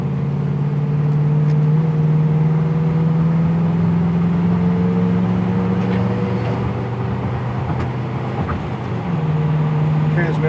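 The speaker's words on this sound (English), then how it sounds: "Transmission shift's good." A 1976 Pontiac Trans Am with a 400 engine accelerating on a drive, a strong steady low engine drone that rises in pitch, drops briefly near the end as the automatic transmission shifts, then carries on, heard from inside the car.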